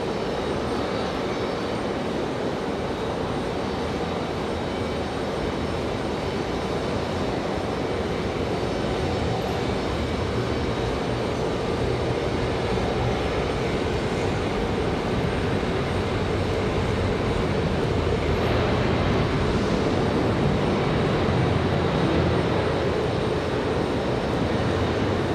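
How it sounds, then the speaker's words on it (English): A Frontier Airlines plane arrives and lands at Raleigh-Durham International, a loud, continuous broadband engine roar and rushing air that holds steady and swells slightly late on. "Nice smooth arrival for Frontier."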